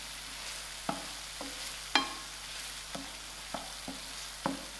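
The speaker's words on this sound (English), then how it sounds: "I'm adding in my tomato puree. Give it a good mix." Tomato puree being stirred into a frying spicy prawn chutney base in a pan, with a soft continuous sizzle broken by about eight distinct spoon taps and scrapes at a steady pace, close and fairly quiet.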